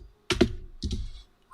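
Two quick bursts of clattering keys on a computer keyboard, close and fairly loud, with silence before and a short pause between them.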